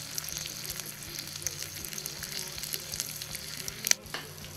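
Chili paprika shrimp sizzle steadily on a hot plate in a coffee pot, a continuous close frying crackle with scattered pops and one sharper clatter near the end, no talking.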